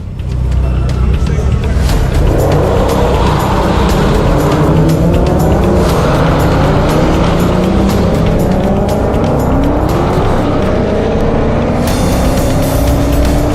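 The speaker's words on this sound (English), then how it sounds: "I think I just beat Leah in a drag race" Drag race cars accelerate hard at an NHRA Nationals event, a loud sustained engine roar with rising pitch sweeps as the cars pull away, mixed with voices over the noise.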